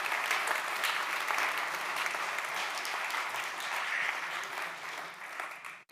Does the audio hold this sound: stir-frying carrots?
no